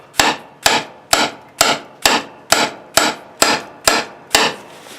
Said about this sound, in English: You can wrap it with a paper towel and then gently tap it with a hammer.